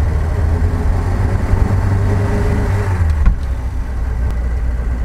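A Bond Bug three-wheeled car's engine while driving, a loud, steady low drone with a constant hum, a brief bump in the middle and no talk.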